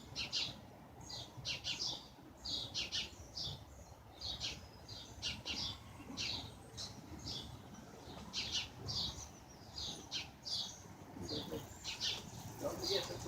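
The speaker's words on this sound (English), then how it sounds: "Oh, we got new birds, blue jays." Blue jays calling around a backyard bird house, loud harsh squawks and chirps repeating through the scene, close and clear over a low rumbling outdoor background.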